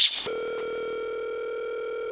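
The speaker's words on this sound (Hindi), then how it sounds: "आपका फोन आ रहा है।" A brief noisy burst, then a sustained electronic phone tone holds steady and clear at one pitch, with no talking over it.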